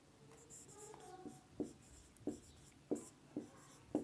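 Chalk or marker strokes on a board during a Class 12 physics lesson on current electricity, a series of short sharp taps and scrapes in an uneven rhythm, close and fairly quiet.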